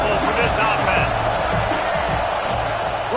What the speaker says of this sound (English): Crowd trying to make life miserable for this offense.